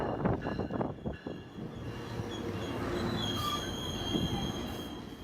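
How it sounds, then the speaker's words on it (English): Metrolink passenger train from Riverside rolling into Fullerton station in Southern California, wheels squealing high and metallic over a low rolling rumble, fairly close but moderate in level, with sharp clanks early on. "While the Amtrak waits, a Metrolink train from Riverside rolls in."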